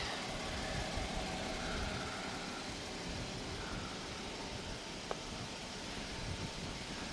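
A 2019 VW Atlas engine idles in a low, steady hum with faint fan-like whirring, continuous and even, with one brief click partway through and no talking.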